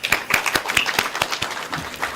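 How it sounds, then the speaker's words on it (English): An audience at an educational film festival's valedictory session claps in a quick, steady rhythm of sharp, close claps for about two seconds. "A big clap."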